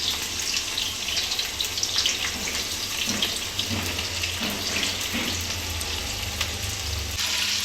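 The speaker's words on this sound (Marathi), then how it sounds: "तेल तापलं आहे, कांदा तळून घेऊ आपण" Onion frying in hot groundnut oil, a dense steady sizzle close up with faint stirring knocks, continuous and fairly loud.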